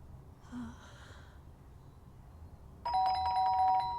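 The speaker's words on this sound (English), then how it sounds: "But the doorbell had gone again." Doorbell chime in the video game Fragments of Him, a clear multi-tone ding-dong arriving after a soft breathy sigh, ringing on near and fairly loud over a low room hum.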